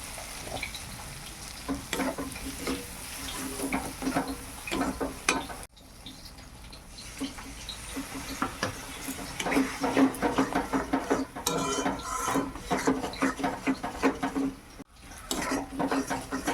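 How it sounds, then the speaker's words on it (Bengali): Spice masala with chili powder frying and being stirred in a pan for chicken curry, a steady close sizzle broken by repeated scrapes and clinks of the utensil against the pan, briefly pausing twice. "মশলাটা ভাজা হয়ে গেছে"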